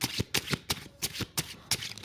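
Tarot cards shuffled in quick bursts, about six crisp riffling pulses spaced roughly a third of a second apart, close and moderately loud with no voices.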